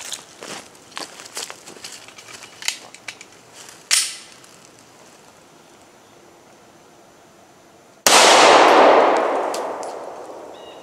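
A 9mm CZ P10C pistol fires into a chronograph at a range: light clinks and handling taps come first, then one sharp, loud shot booms and rings out as it slowly fades.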